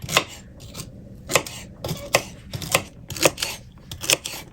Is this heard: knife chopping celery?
yes